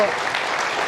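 A TV studio audience claps in a dense, steady burst of applause at a political talk show event, lasting under a second.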